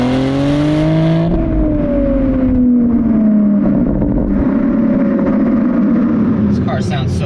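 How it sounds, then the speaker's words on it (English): A 971-generation Porsche Panamera 4S accelerates hard in sport mode, its exhaust note climbing in pitch, dropping at a gear change, then pulling upward again, loud and close. "You can hear that exhaust come alive."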